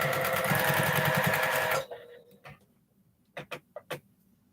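A sewing machine stitches pieced 2.5-inch quilt squares on a quarter-inch seam, running in a fast, steady close-up whir for under two seconds before stopping, followed by a few sharp clicks and taps.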